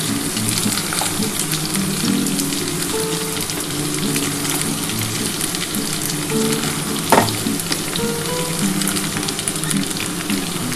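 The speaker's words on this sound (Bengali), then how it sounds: "এবার বন্ধুরা আমি ঘিয়েটা দিয়ে দিচ্ছি" Ghee sizzling in a frying pan, a loud, dense, continuous crackle heard up close, steady throughout with one brief clatter partway.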